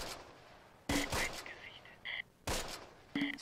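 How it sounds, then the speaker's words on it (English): Gunfire in the Close Combat war game, with several sharp bursts of shots and short rattling volleys spaced apart, fairly faint, while a voice talks between them. "Taking fire, but where are you taking fire from?"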